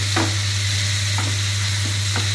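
A steady sizzle from a hot pan with occasional stirring scrapes as tomatoes and onions sauté for a Chettinad prawn gravy, set against a constant low hum.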